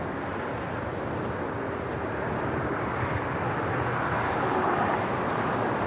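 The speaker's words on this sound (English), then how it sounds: "Flight inbound from Boston going around there on the north side. It's United 311" A United airliner inbound from Boston goes around at LAX, giving a steady, loud broadband jet roar that swells slightly toward the end with no pauses.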